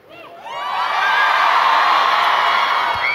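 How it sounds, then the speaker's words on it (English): A convention crowd at a comic con panel bursts into screaming and cheering, swelling quickly to a loud, sustained roar of high-pitched shrieks and whoops that holds steady to the end. "Scream for that guy, not Tom Holland."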